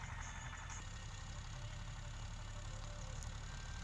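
A tractor engine runs steadily in a net house field, a continuous low rumbling drone with no pauses, heard on its own at moderate distance.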